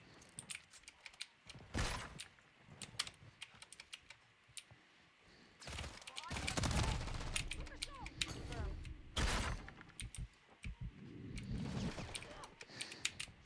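Call of Duty 3 gunfire crackles in short bursts and louder sustained volleys, with mechanical clatter between shots, while a player talks intermittently over the game sounds.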